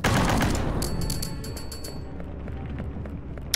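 Explosive ammo gunfire in the video game Dinobreak opens with a loud blast, then rapid, sharp crackling shots fire in a quick burst before settling into a low rumbling tail.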